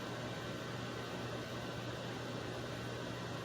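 A microwave oven runs while melting ingredients for carnivore ravioli dough, a faint, steady electrical hum and fan whir holding unchanged throughout with no voices.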